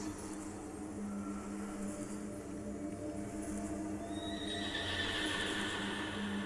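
A horse-bodied Lunibus, the Moonlit Plume, from Honkai Star Rail neighs in a rising whinny late in the clip over a steady, dense ambient game background.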